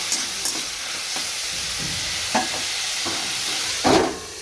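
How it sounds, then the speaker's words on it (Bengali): Potato and yardlong bean stir-frying in a pan: a steady sizzle runs throughout, with a few scrapes of the spatula standing out above it, the loudest one near the end. "আলু বরবটি ভাজাটা বসিয়ে দিয়েছি"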